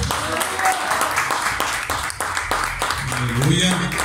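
A church congregation claps together in praise during a Spanish-language service, loud rhythmic clapping throughout with voices and some music-like tones rising near the end.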